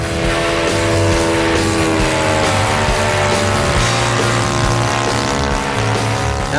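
A radio-control aerobatic plane flies a loop, its small engine giving a steady, loud buzzing whine with strong harmonics that holds throughout without pause.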